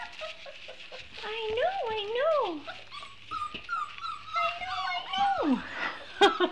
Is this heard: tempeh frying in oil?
no